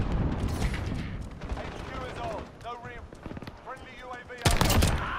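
Call of Duty Modern Warfare firefight with rapid automatic gunfire and single shots in clustered bursts, a loud closing volley, while players shout and talk over the shooting.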